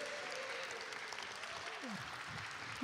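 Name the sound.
applause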